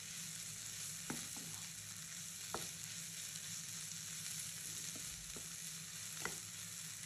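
Slit green chillies frying in a pan, a dense, steady sizzle with occasional sharp pops and light spatula taps spaced a second or two apart.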